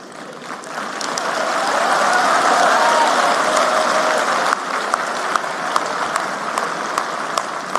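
Sustained applause from an audience in a packed hall, swelling to a loud, dense clatter of many hands and holding steady for several seconds with a few sharper individual claps near the end.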